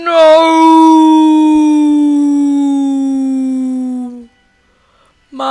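A tamed wolf in Minecraft lets out one long, loud, tonal howl that slowly sinks in pitch for about four seconds before cutting off, followed by silence and a brief sound at the end.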